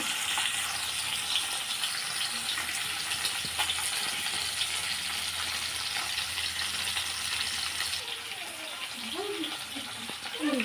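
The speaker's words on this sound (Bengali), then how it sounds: "আগে মাছটা ভেজে নেব ইলিশ মাছটা একদম কড়া করে ভাজা হবে না হালকা করে ভেজে নেব" Continuous crackling sizzle of hilsa fish frying lightly in hot oil, steady and close, with a few clinks and scrapes near the end.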